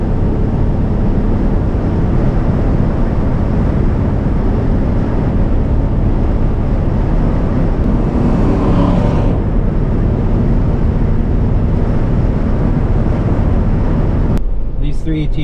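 A 1970 Plymouth Fury with a 318 engine driving, its steady loud engine drone and road rumble heard from inside the car, with a person talking under the noise.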